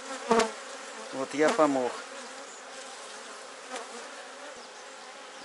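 Honeybees hum around a young queen emerging from her queen cell as its cap opens, a continuous insect drone with a few brief louder swells, while someone speaks quietly near the hive.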